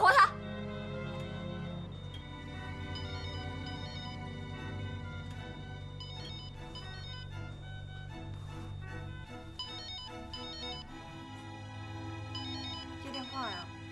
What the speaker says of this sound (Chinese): 你接电话呀！